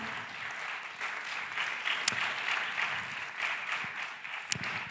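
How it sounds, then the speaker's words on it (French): Audience applause at a Futurapolis conference session on preparing elite athletes, a steady wash of clapping that holds evenly for several seconds with a couple of sharper claps near the end. "on vous applaudit"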